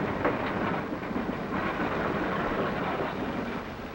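Freight cars roll over and down the hump in a rail yard behind N&W 5450, a steady rumbling clatter of wheels on track that stays loud and continuous throughout, with no voices.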